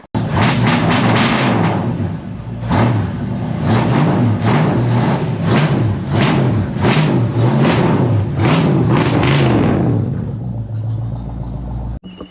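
A 1968 Mustang on a test drive, its engine rumbling loudly and revving through repeated rises and falls as it accelerates, heard up close for several seconds before the sound cuts away.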